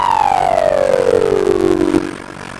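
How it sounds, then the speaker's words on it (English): Manual emergency vehicle siren from the video game EmergeNYC winds down in a single loud, smooth falling wail that fades out near the end, alone without any voices. "That's a manual siren, but."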